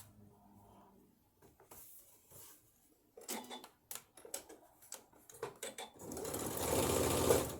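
A sewing machine stitches a bodice seam in short, separate runs of quick mechanical chatter. The bursts are followed by a louder, denser stretch of noise toward the end.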